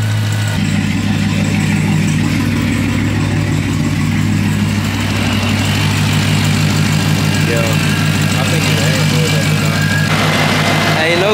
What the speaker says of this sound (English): that new fan is blowing real good